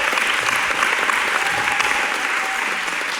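Audience applause at a climate caucus gathering, loud continuous clapping from a crowd, even and sustained throughout.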